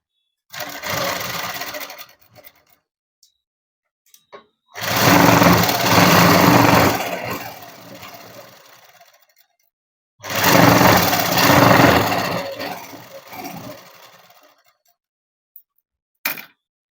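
A sewing machine stitches cloth in two long loud bursts of rapid whirring, each a few seconds, separated by quiet pauses with faint handling clicks.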